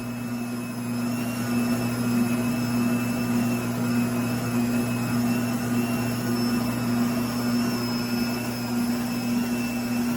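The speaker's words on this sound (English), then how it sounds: "The mixer makes its noise." A NutriMill Artiste 500-watt electric stand mixer with a 6.5-quart bowl running at speed 2 in a kitchen gives a continuous steady motor whine and hum, loud and close, holding constant for about ten seconds with no talking.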